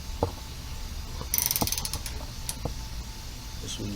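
A ratchet wrench tightens the top A/C condenser joint on a Lexus LS 460, giving a few sparse metallic clicks and ratcheting bursts close up against a quiet garage background.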